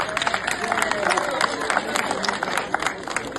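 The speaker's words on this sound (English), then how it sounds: "I think the president deserves a round of applause." Audience applause after a call to clap at a Nigerian student loan presentation under the Tinubu administration, a steady wash of many hands with crowd murmur and voices underneath, moderately loud and sustained.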